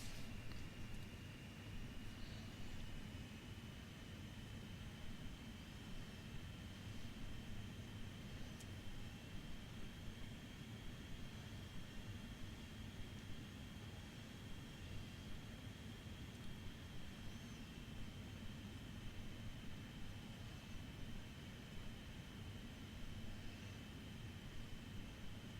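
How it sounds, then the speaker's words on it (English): An airplane coming in to land in a flight simulator game, with a continuous, even engine drone and rushing noise, a thin high whine running through it, no voices. "There is that plane coming in"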